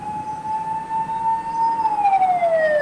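An ambulance siren wails steadily and loudly, its tone holding then dropping slightly, with faint road rumble underneath; no voices.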